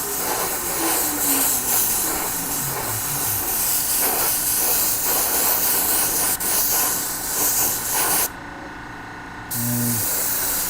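Airbrush spraying yellow base-coat paint onto a 3D printed scorpion mask, a steady close hiss running almost continuously, with a brief pause near the end before spraying resumes.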